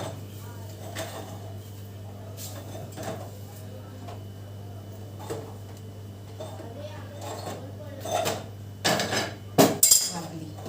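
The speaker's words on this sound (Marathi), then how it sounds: "कशी कडक भाकर वाजली चुलीवर वाजल्यासारखी मस्त" A crisp, hard bhakri flatbread is tapped on a hot tawa over a gas flame, giving a few sharp knocks that grow louder and quicker near the end, over a steady low hum.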